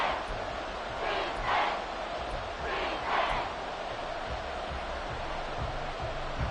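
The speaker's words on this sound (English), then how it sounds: "This crowd doing all they can." A stadium crowd in the Madden 24 American football video game roars steadily in the fourth quarter of a one-score game near the goal line, with two swelling surges of cheering over a constant wash of noise.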